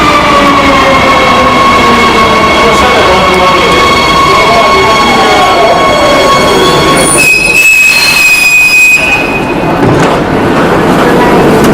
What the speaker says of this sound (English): Never been on a metro before.